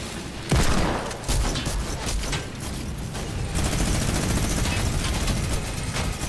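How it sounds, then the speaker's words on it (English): Heavy, continuous gunfire in the video game Fortnite, loud, dense bursts of automatic shots with booms layered together throughout. "Someone is shooting."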